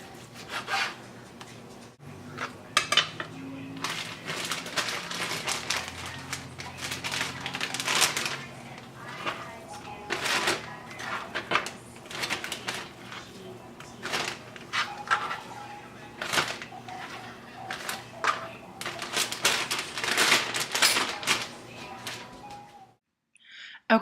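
A knife chops strips of steak into cubes on a cutting board, repeated close thuds and scraping strokes in an uneven rhythm, with occasional talking mixed in.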